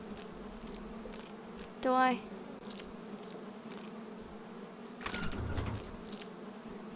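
Bees buzzing in the horror video game Precipice, a steady low insect drone under faint game ambience, with a brief spoken remark and a louder rustling passage later.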